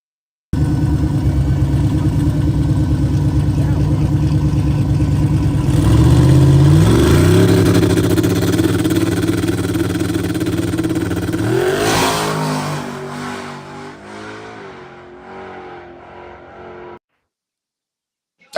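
A street-leaning big-tire car fitted with wheelie bars revs its engine loudly and close, the roar swelling through repeated throttle blips and sustained high revs before dropping back and cutting off.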